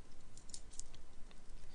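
Light, quick taps on a computer keyboard as a git command is entered, a soft patter of close clicks in an irregular rhythm with no talking.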